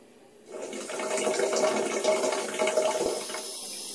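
Cold and hot water pouring from a household tap through spinning water meters, a steady rushing splash that starts suddenly and continues at moderate loudness, close by with no talk.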